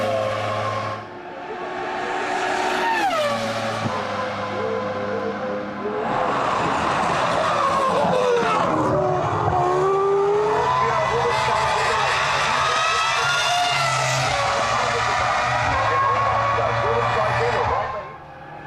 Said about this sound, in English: watch Rubens Barrichello in this copybook drive